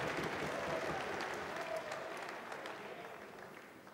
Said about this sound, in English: You can hear the crowd responding to that action.